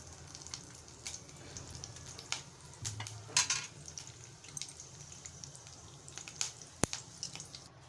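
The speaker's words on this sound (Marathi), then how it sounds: "या गरम तेलामध्ये मी कढीपत्ता घालत आहे" Curry leaves fry in hot oil with a faint, quiet sizzle and light crackle, broken by scattered soft pops and utensil taps while making murmura chivda.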